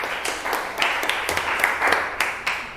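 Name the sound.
classroom applause for a student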